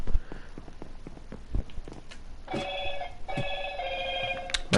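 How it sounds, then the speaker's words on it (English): Phone ringing in a Minecraft button-finding map session: a repeating electronic ringtone with two bursts of pulsing tones over soft footsteps and game noises. "My phone's going off"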